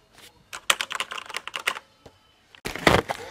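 Rapid keystrokes on computer keyboards being tried out in a tech store, a quick clattering burst of typing, a short pause, then a louder cluster of clicks up close.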